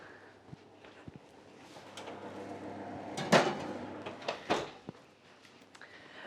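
A home oven door opens and shuts as a layered cake goes in: quiet clunks and knocks, with one sharper bang near the middle and a second thud shortly after, in an otherwise quiet kitchen.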